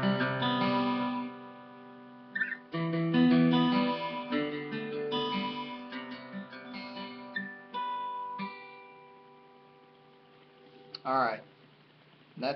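Guitar plays the intro of a song: picked notes and short phrases with brief pauses, ending in a few ringing harmonics, fairly quiet and close.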